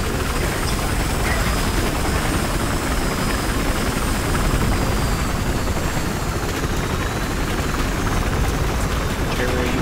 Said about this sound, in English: got a police chopper coming in.